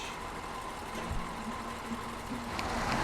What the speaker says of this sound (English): that engine noise is a little loud.